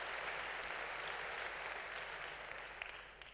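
Audience applause at a Red Hat corporate conference event in Italy: steady, dense clapping from a large crowd, fairly distant and continuous for several seconds, tapering slightly at the end.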